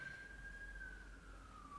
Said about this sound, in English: seems every time someone was trying to do a video, you have a siren problem